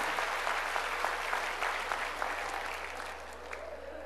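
A church congregation claps together, a moderately loud, continuous patter of many hands over a low steady hum, easing slightly toward the end.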